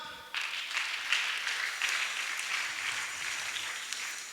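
A roomful of people breaks into steady applause that begins abruptly and holds at an even, fairly loud level, with occasional sharper individual claps standing out.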